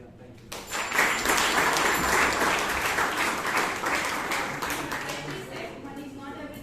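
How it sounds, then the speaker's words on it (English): Audience applause fills a Toastmasters meeting room in Bangalore, a dense sustained clapping that swells quickly after a brief quiet start and fades slightly toward the end. "So can we have a big round of applause for all?"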